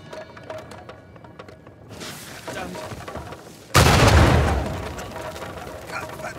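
Gunfire and an explosion in the video game Uncharted 4: scattered shots over a low background, then a sudden loud blast that rumbles and slowly fades.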